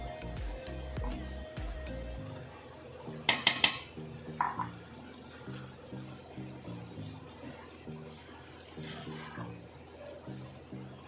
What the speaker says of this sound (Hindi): इसको मैं स्पून की मदद से इसमें ऐड करती हूँ